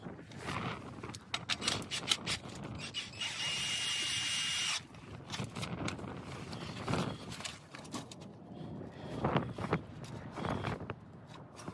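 An impact driver with a bit drives bolts into a trailer stabilizing jack on an RV camper, sounding in close bursts of buzzing and rattling hammering with a steady whir for about a second near the start.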